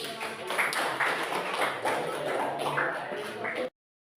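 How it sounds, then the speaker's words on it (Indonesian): A classroom of students claps in applause for the winning group, a brief burst of close, uneven hand claps and shuffling that stops abruptly. "beri tepuk aplaus untuk"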